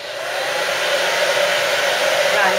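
A hair dryer blows steadily and loudly at close range, a continuous airy whoosh with no pauses.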